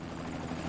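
Steady whirring rotor drone of a fire department helicopter in a children's cartoon, continuous and fairly loud throughout, with no voices.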